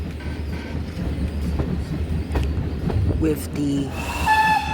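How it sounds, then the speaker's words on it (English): GWR steam tank locomotive 4247 on the Paignton and Dartmouth Steam Railway, running with a steady rumble and rail noise, a brief whistle-like tone near the end, and a voice speaking over it. "4247 on the Paignton Dartmouth Steam Railway"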